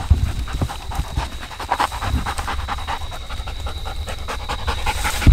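A hunting dog pants rapidly and steadily after tracking a deer outdoors in Mississippi, close to the listener, with a few faint thumps and rustles around it.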